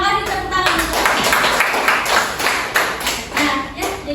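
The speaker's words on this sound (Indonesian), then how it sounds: "Terima kasih tepuk tangan." Students in a classroom clap together in a lively, uneven patter of hands, with a few louder slaps standing out over a murmur of young voices.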